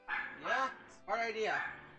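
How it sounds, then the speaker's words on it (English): Dogs indoors bark in two bursts of yipping barks, fairly close and clear, with a voice speaking over them. "sorry if you hear my dogs out in the background"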